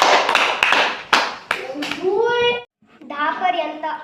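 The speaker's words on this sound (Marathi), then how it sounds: "टाळ्या वाजवा रे सगळेजण." A classroom group of children clap their hands in a quick burst of sharp, close claps, then their voices rise together in speech right after.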